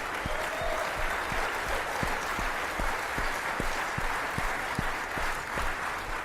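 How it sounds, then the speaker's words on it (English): A conference audience at the Bitcoin 2023 event in Nashville gives a sustained round of applause, a dense wash of clapping with regular accented beats running steadily throughout. "I want to have a huge round of applause for our wonderful guests and these two founders over here"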